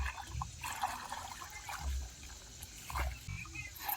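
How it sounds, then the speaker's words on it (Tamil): Water runs quickly through a field channel, a continuous gurgling trickle with splashy surges and low murmuring, heard fairly close at moderate volume. "ஈஸியாக பாஞ்சிடும் தண்ணி போகிற ஸ்பீடை பார்த்தாவே தெரியும்"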